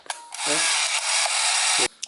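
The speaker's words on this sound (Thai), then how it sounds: "กดชัตเตอร์นะฮะ" The shutter of a Ricoh Y-20 film camera snaps with a small click, then a loud, steady motorized whir runs for about a second and a half before stopping with another faint click.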